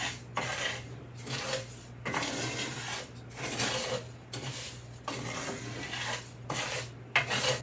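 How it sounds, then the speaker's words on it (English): Dry rice toasts in a skillet on a burner a little above medium, heard as rhythmic scraping and rattling strokes of a utensil against the pan, roughly one per second, close and fairly soft, with no talking. "We're going to let this rice get toasted up in the skillet."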